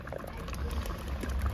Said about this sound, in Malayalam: മാമ്പഴ പുളിശ്ശേരി അടുപ്പിൽ കിടന്ന് നന്നായി വെന്തുകൊണ്ടിരിക്കുന്നുണ്ട്.